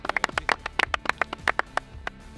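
A small crowd clapping for the winning team at a feeder fishing cup prize ceremony, a couple of seconds of uneven, close, crisp hand claps that thin out toward the end.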